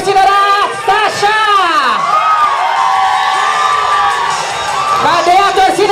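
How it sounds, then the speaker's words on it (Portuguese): Crowd cheering, whooping and shouting for a contestant at a drag queen pageant in Mogi das Cruzes, Brazil; loud, sustained and close throughout, with high voices rising and falling. "Cadê a torcida da Sasha?"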